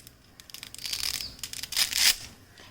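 Dry spaghetti snaps into a pot in a few short, crisp bursts of crackling breaks, close and fairly quiet, with no talking.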